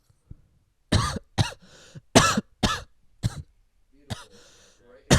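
Several loud, close coughs and throat-clearing bursts land right into a podcast microphone, coming in irregular clusters with short silent gaps between them.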